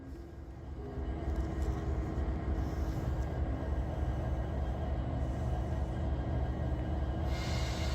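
A Union Pacific train rumbles steadily nearby, a heavy low roar that swells slightly and holds through the whole stretch.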